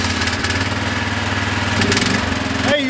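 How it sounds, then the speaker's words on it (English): Sprayer engine running at a steady idle, a loud, even mechanical drone with a rhythmic low pulse that shifts pitch briefly near the end. "You don't rub the engine up too fast"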